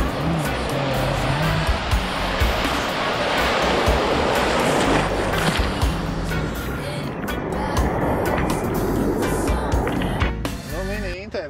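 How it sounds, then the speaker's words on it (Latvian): Ocean surf rolls in steadily on the Portuguese coast, a loud continuous wash of breaking waves with people talking over it. "Esam pie okeāna"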